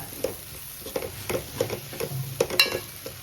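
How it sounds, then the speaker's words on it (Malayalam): Spices with turmeric powder being sautéed in a pan, with soft scattered clicks and scrapes of a stirring spoon over a faint, quiet sizzle. "ഇത്ര ഇട്ടിട്ട് നന്നായിട്ട് വഴറ്റുക"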